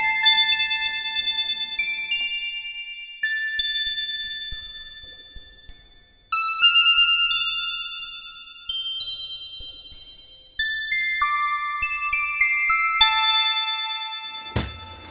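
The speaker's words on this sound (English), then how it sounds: "Got space chimes." Space chimes from the Dead Duck DJX10 analog-style synth plugin ring out as a loud, continuous cascade of bright, high bell-like tones, overlapping and sustaining, with no voices.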